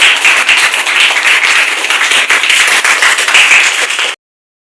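Classroom applause for a student after a presentation in a secondary school class: dense, steady clapping from a group of pupils lasting about four seconds, then stopping abruptly.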